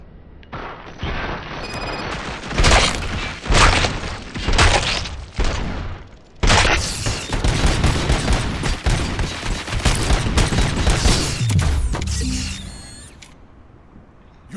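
Gunfire from the RoboCop: Rogue City video game: loud rapid bursts and volleys of shots with booming impacts come in waves, followed by a steady stretch of sustained firing that tapers off at the end.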